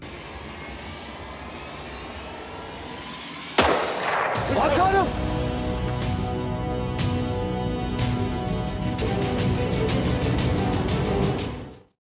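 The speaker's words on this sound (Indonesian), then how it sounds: "orang-orang yang ada di sana pun dibuat panik dengan sebuah tembakan yang terdengar begitu kuat" A single loud gunshot cracks out in a tense historical drama set in the Ottoman court, followed by a dense, sustained rumble of music and noise that holds until the scene cuts off abruptly.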